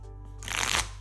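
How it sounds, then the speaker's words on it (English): A deck of Pokemon trading cards is riffle shuffled once, a quick crisp fluttering burst lasting under half a second after a brief pause. It is close and moderately loud with no talking. "I just kind of do a little bit of riffle shuffles here and there"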